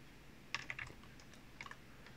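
Computer keyboard keys pressed in a quick burst of a few clicks, a pause, then a couple more light clicks, close and fairly quiet over faint room noise.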